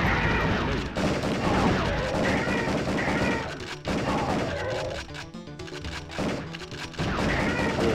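Gunfire in the video game Area 51, a dense, continuous stream of shots and impacts layered with game effects, loud and close with only brief dips in intensity.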